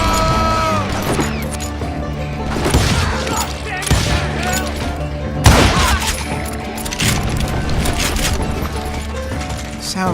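A barrage of gunfire from hired gunmen rings out in the Wild West shooter Call of Juarez: Gunslinger. It is loud and near, with repeated sharp cracks and booms over a game music bed, and bits of voice come through in between.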